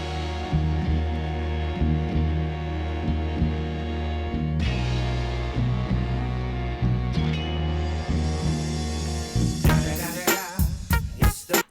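Original version of a hip hop track, steady beat with a deep bass line and regular drum hits, layered sustained tones, and a busier percussive break near the end, playing loud and alone with no talk.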